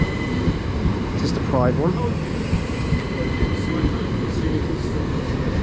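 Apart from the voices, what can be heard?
Southeastern train arriving at station platform, East Sussex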